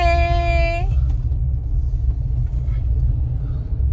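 A car rumbles low and steady as it turns into a narrow lane, opening with a short high-pitched tonal whine that cuts off, then continuous engine and road rumble.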